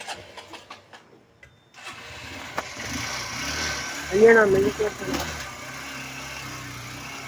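A motorbike engine starts up and settles into a steady idle, close by, with a few knocks and clicks just before it catches.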